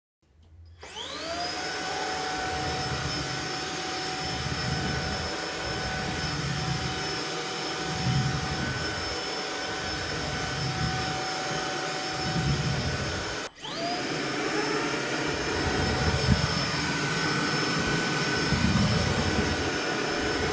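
A Shark Ninja IONFlex DuoClean cordless vacuum cleaner spins up and runs with a steady high-pitched whine, cuts out briefly near the end, then restarts and keeps running loudly.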